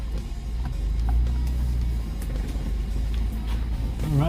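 Ford Bronco SUV driving off-road through a forest, with a steady low engine rumble and drone close by, small knocks and rattles over it, no talking.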